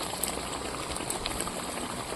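A pot of potol and paneer curry bubbles away in an open wok, a steady, dense simmering burble heard up close with no talking.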